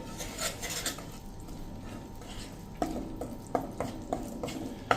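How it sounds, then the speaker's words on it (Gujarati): Amaranth flour roasts in ghee over a low-to-medium flame while being stirred continuously, with a faint sizzle beneath a run of sharp, regular spoon clinks and scrapes against the pan in the second half, close up and without voices. "સ્લો ટુ મીડિયમ ફ્લેમ ઉપર કન્ટિન્યુ ચલાવતા ચલાવતા આપણે એને શેકી લઈએ"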